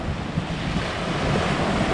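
Cool wind blows steadily across a beach while waves wash in, a dense continuous roar of surf and wind buffeting the microphone, with no voices.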